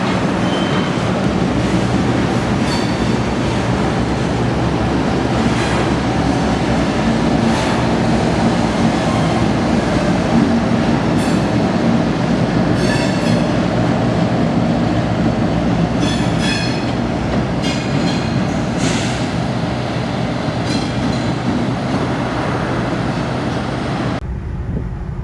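A CSX freight train of empty pellet hoppers rolls out of the Tropicana plant in Tampa, Florida, a long steady rumble of wagons with rhythmic wheel clatter and occasional squeals, close and continuous until it cuts off.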